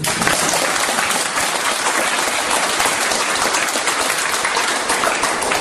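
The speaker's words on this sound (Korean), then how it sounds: "박수 한번 주세요" Audience applause at a completion ceremony for a chicken franchise's Seoul headquarters: dense, steady clapping from a large crowd fills the whole stretch without a break.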